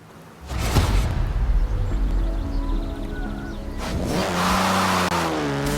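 Jaguar sports car engine in the racing game Forza Horizon 4, revving up hard and accelerating with a rising growl, easing briefly, then climbing through gears again with a strong whine, close and loud.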